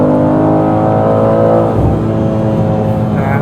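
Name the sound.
sports car exhaust pops and bangs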